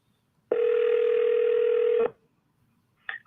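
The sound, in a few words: telephone dial tone and dialing for a cold call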